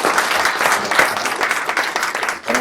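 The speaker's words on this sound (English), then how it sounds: "For the last time, to give her a round of applause." A short round of applause at a school board meeting, a dense wash of many hands clapping fairly close by that thins toward the end.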